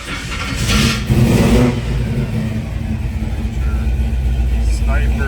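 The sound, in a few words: muscle car engine starting and revving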